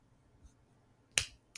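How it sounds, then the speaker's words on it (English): Two sharp hand claps ring out, the first louder and the second a bit quieter about a third of a second later, against near silence. "That was me clapping."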